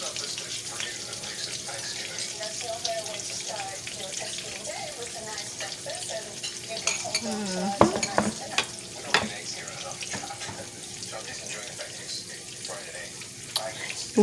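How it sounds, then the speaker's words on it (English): Shrimp frying in garlic butter in a pan gives a steady, close sizzle throughout, broken by a few sharp clinks and knocks toward the middle and end. "We are going to just let this cook about 5 to 6 minutes on each side."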